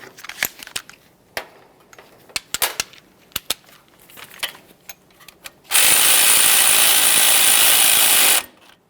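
An 8mm mounting bolt is tightened on the front strut assembly of a 2015-2020 Ford F-150: loud, close, irregular ratchet clicks, then a sustained, harsh mechanical burst that stops abruptly.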